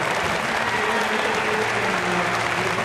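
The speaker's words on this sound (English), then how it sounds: "the crowd generously applauding two young women" Crowd applauding at a Commonwealth Games 2014 badminton bronze medal match, sustained loud clapping that fills the arena evenly without pause.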